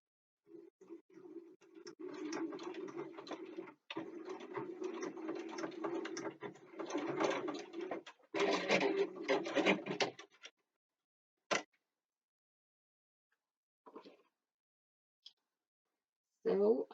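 A sewing machine stitches down D-ring straps on a backpack in bursts of rapid mechanical whirring, close and fairly quiet, stopping and starting, then a few isolated clicks and taps after it falls silent.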